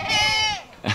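A large goat bleats once nearby in a long, wavering cry, followed by the start of a second call at the end.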